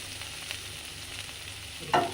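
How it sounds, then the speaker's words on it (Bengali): Bottle gourd greens and potatoes sauté in a pan with a steady, moderate sizzle, soft stirring scrapes, and a sharper utensil clank near the end, with no speech. "ভালো করে কষিয়ে নেবো"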